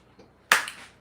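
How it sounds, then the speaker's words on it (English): A single sharp, loud crunch from a bite of crispy vegan bacon lands close to the mic and fades within half a second, with no talk. "Did y'all hear that crunch though?"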